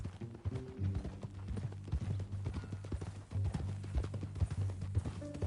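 Horse hooves clip-clop steadily in Red Dead Redemption 2 on PS5, a close, even walking rhythm with no talk over it.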